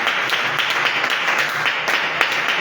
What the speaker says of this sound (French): acclamons très fort pour notre Seigneur